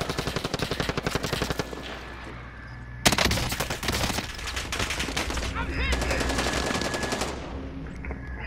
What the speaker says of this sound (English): I just noticed the gun that I had was a burst weapon.